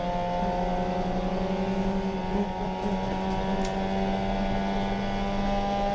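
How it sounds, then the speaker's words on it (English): Race car engine at a national racing event drones with a steady, fairly loud hum; a brief dip in the note suggests it faltering as fuel runs out. "So I can hear the car sputtering."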